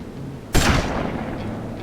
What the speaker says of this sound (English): That's some insane shooting, man.